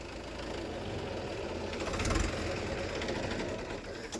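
A Mahindra Yuvo Tech+ 585 tractor engine idles steadily up close while running a maize threshing machine, with a brief swell in the middle. A voice speaks faintly beneath the drone.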